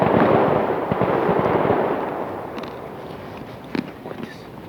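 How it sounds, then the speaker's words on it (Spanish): Fireworks or firecrackers go off outdoors near a forest, a dense crackling burst at first that thins into scattered pops and a couple of sharper bangs, with voices faintly present. "Son cohetes,"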